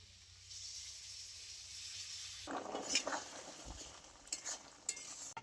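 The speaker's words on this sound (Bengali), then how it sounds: "এবার আমি অল্প জল দিয়ে কিছুক্ষণ ফুটিয়েই নামিয়ে নেব" Water is added to a shrimp and Malabar spinach curry in the pan, giving a quiet, steady hiss. A burst of bubbling and stirring follows, with a few soft clinks, all faint and close.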